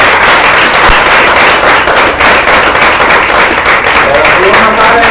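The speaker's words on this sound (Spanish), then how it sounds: "Dar un aplauso a Dios" Dense, steady clapping from a church congregation fills the whole stretch at a loud level, with no talk.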